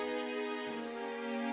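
A short, quiet stretch of a drill beat with its stereo width widened: a sustained, harmonically rich synth tone over a low bass layer that drops away briefly, with no talking.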